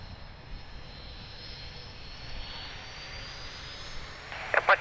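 A fixed-wing airliner taking off from Lisbon Airport runway 02, a steady broad engine roar at moderate distance holding level throughout, with a faint brief radio chirp at the very end.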